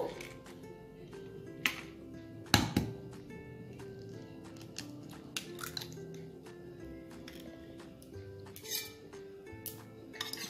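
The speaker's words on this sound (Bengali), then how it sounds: "2টো ডিম নিয়ে এটাকে আমি ফাটিয়ে নেব।" Two eggs cracked against a bowl to make an egg batter for Bengali egg chops, with one sharp crack near the middle among a few light clinks and taps of shell and bowl in a quiet kitchen.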